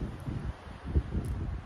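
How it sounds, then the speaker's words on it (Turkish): Wind gusting against an outdoor microphone, low buffeting rumbles that rise and fall in uneven puffs, fairly faint, with no voices. "Çünkü rüzgar da var."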